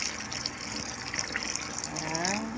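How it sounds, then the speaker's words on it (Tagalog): Water is poured into homemade pancake batter, a close, continuous gushing pour that runs steadily throughout. "Lagyan na naman natin siya ng tubig"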